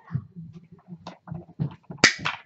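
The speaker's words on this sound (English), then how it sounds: "Now I know they said that it make like a crunching noise" A Sizzix BigKick die-cutting machine gives one sharp, loud crunching crack near the end, like something breaking. Quiet voiced murmuring runs through the lead-up.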